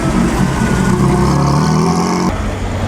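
A classic Lancia Aurelia roars past at close range during the Mille Miglia road race, its engine loud and steady throughout with a brief shift in tone near the end.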